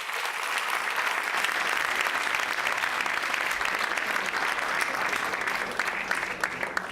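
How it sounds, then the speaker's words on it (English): An audience applauds the participants at an innovation showcase. The clapping is steady and continuous, at moderate level and fairly close, and holds throughout without talk over it. "if you could give them a round of applause, they did an awesome job"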